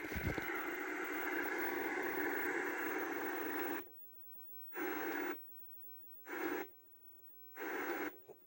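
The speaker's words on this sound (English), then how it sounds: "All you get is static. It's just white fucking noise, right?" Loud broadband hiss of TV static from a digital converter box with no signal, filling the first four seconds and then returning in three short bursts separated by near silence as channels change.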